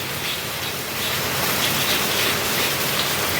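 Heavy rain pours down in a steady, dense roar that stays loud and unbroken throughout, with no voices.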